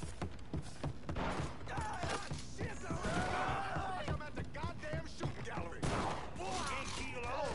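Gunfire at a shooting gallery in the video game Mafia 3, dense bursts of shots and clatter running almost continuously, close and loud, mixed with game sound effects and a talking voice.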